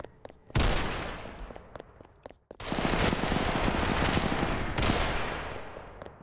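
Automatic AK rifle fire in the Roblox shooter game, loud sustained bursts of rapid shots with a brief pause after the first burst, then a long continuous volley with no voices.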